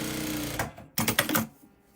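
A sewing machine stitches a quarter-inch quilt seam in two rapid whirring bursts of needle strokes with a brief pause between. The sound is loud and close, and no speech is heard.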